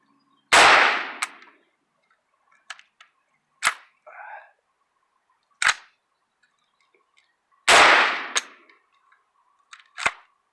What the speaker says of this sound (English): So what it's doing now, it's firing and ejecting the round.